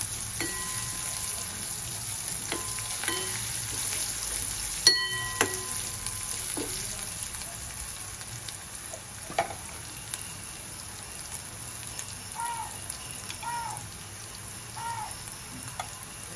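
Garlic fries in a pan for a fenugreek-leaf bhaji, a faint, steady sizzle close by, broken by scattered sharp pops and clicks.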